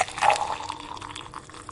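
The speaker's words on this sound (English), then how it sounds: "I'm gonna pour you guys a drink." A drink is poured into a glass at a tavern, a brief liquid splash and trickle that starts strong and tapers off over under two seconds.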